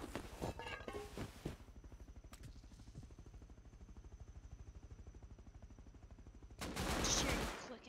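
Several players trade gunfire in a Rust fight, with sharp bursts of shots near the start and end and a steady rapid clatter of distant fire in between.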